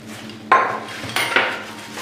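A spoon stirs prawn and taro curry with water and a little salt in a cooking pot, giving a few close metallic scrapes and clinks against the pot in short bursts.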